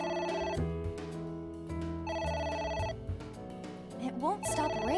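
A phone rings insistently in the video game AI: The Somnium Files, three clear electronic ring bursts in a steady rhythm over game music, with a voice briefly heard near the end.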